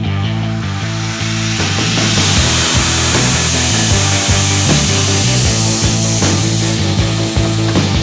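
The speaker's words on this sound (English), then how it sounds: "now that I've got the blank cut out, I need to grind these tapers and this taper" A power grinder shapes the tapers on a steel kitchen knife blank, a loud, steady abrasive whine with rhythmic scraping passes as the blade is worked, with no talk over it.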